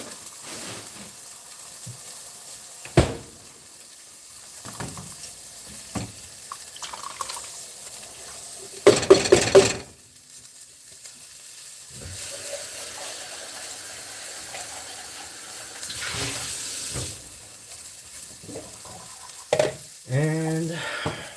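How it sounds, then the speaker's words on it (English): Frozen peas tipped into a pot of boiling water on a home stove: a burst of splashing and hissing, then steady bubbling and sizzling with scattered clinks and stirring, no talking. "I'm going to put them in the pot of that boiling water."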